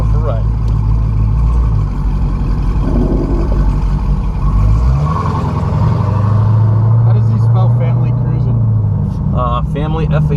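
A modified Dodge Challenger Hellcat with a 6-speed manual drives along, its deep engine rumbling loud and close from inside the cabin, the pitch shifting midway as it changes speed, with voices talking over it.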